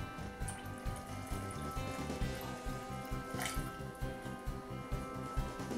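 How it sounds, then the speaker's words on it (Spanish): Water is poured into a pot of nearly cooked fabes verdinas with blended sofrito, a steady close splash and trickle over a low repeating bubbling pulse, with no voices. "Y un poquito más de agua."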